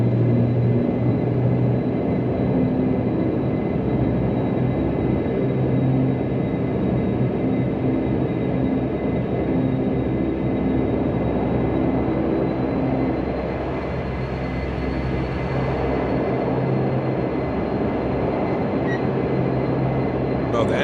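Fenix A321 jet engines in Microsoft Flight Simulator 2024, a steady loud droning hum with a constant high whine, heard continuously from the cockpit with faint talk at times.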